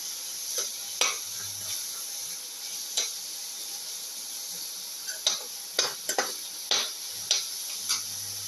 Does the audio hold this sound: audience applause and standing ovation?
no